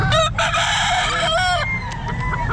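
Roosters crow and chickens cluck at a pet market, a loud close crow followed by a second, then shorter clucks and calls, with faint market background noise and no clear talking.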